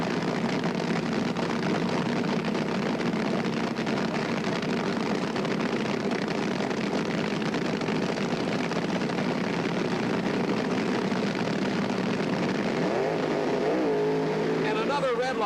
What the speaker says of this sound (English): Both cars approaching the staging beams.